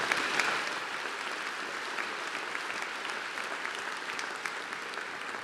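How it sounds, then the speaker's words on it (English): Graduation ceremony audience giving a round of applause, sustained dense clapping from a large crowd in a hall, even and continuous for several seconds with a few sharper individual claps standing out. "Let's give another round of applause."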